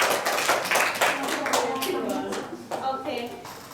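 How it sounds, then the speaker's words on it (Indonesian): Close, lively applause from a classroom of students in a microteaching lesson, brisk hand claps at full volume with children's voices mixed in. "Tepuk tangan dulu dong untuk kita."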